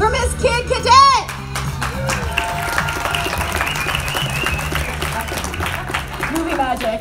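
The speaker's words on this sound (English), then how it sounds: "Please give a huge, thunderous round of applause for Miss Kid Cadet." A convention crowd applauds and cheers a panel host at a horror fan event, dense sustained clapping under a voice and background music, with an amplified voice ringing out at the start.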